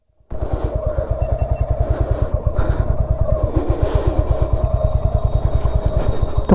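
A motorcycle rides steadily on the way from Kolkata to Sundarban, its engine loud and close with a fast, even pulsing throb that holds for several seconds, with no talk.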